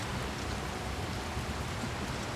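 Steady rain falls on a rainy night in the video game Oblivion Remastered, an even, close hiss of drops that carries on without any break or talking.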